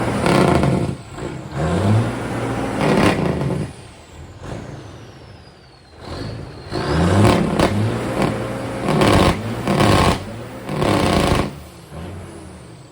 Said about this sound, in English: This thing's got the loudest ass jakes anything I've ever heard.